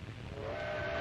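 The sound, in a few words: steam train rattling on tracks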